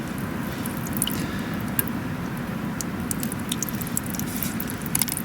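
Water drips and trickles from a Hercules diesel power unit bought as scrap at auction: faint, irregular wet ticks and squishy drops over a low steady hiss.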